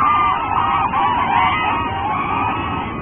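Cranes in a marsh in Bhutan give loud, continuous honking and bugling calls that overlap, close by, with no voices.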